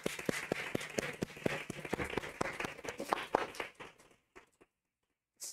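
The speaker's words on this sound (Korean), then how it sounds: "우리 박수로 하나님 영광 드리겠습니다" Church congregation claps in unison to give glory to God, a soft, evenly spaced rhythmic beat of hands that carries for a few seconds, then trails off into scattered last claps and quiet.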